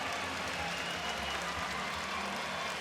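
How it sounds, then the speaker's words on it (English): Steady, dense applause from a basketball arena crowd during an NCAA men's tournament first-round game between Purdue and High Point, a continuous broad wash of clapping with no break. "a round of applause for them"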